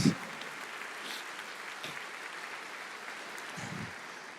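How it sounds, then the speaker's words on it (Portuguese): Church congregation applauding during a sermon, a moderate sustained patter of clapping with a few brief voices rising above it. "Aplauda o Senhor, glorifique a Deus."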